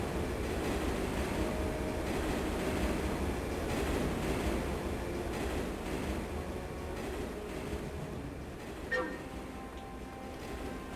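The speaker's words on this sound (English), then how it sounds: "Avoid the trains and get to the station." A train in the video game Turok 3: Shadow of Oblivion rolls past with a steady low rumble and rattling, fairly quiet, with a short metallic squeal near the end.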